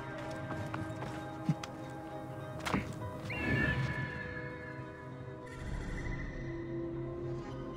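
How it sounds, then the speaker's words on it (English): A horse in Assassin's Creed Origins whinnies and snorts amid faint hoof clops near some ruins, over a steady game ambience with tonal music, moderately close and not very loud. "That must be the horse the thieves used to escape."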